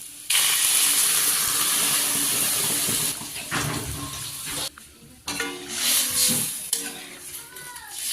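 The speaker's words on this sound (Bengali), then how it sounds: "এখন আমি এর মধ্যে জল দিয়ে দেব।" Water is poured into a pan of potatoes and spices being sautéed for a rohu fish curry. A loud hiss and splash bursts from the hot pan, then settles into bubbling and stirring.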